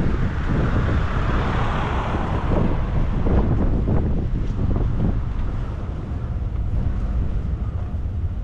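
Strong wind blows outdoors in Ryogoku, Tokyo, a loud continuous buffeting roar battering the microphone, gusting steadily throughout with no voices.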